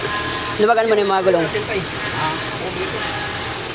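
A stalled car's engine runs steadily at idle in a garage setting, a low continuous hum lying under a man's close-up talk at the start and carrying on alone afterward.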